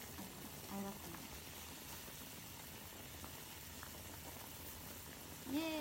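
A shabu-shabu hot pot simmers with a soft, steady bubbling that stays quiet and close throughout, with a few faint voice fragments near the start and end.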